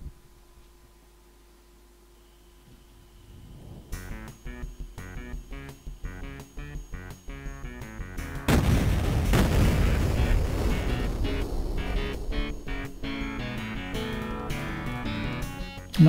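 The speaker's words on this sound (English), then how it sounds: "I believe we need to use Wave Blaster here for the music." A mid-90s PC game playing music through a Wave Blaster sound card: a sustained synth tone gives way to rhythmic MIDI-style percussion and chords, swelling into a loud booming section with heavy low hits, no talk.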